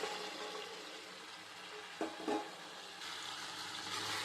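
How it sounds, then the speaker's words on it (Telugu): Chopped broad beans dropped into a pan of frying tomato curry, a steady soft sizzle with two brief louder splashes of added vegetables midway, then a brighter hiss near the end. "మనం ఒక చిన్న చిన్న ముక్కలుగా కట్ చేసి పెట్టుకున్న చిక్కుడుకాయల్ని వేసుకుందాం"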